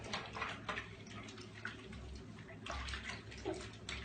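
Running water washes shampoo through a fox's fur during taxidermy preparation, giving an uneven splashing and trickling close by, with bursts of louder sloshing.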